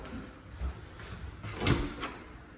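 A pair of French closet doors in a house in Longwood, Florida, is swung shut, giving two soft wooden knocks about a second apart against a quiet room.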